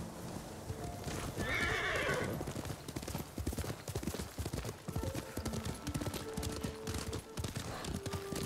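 Horse hooves clip-clop at a steady gallop in the video game Ghost of Tsushima, with a whinny early on, loud and continuous under game music and tones, with faint speech.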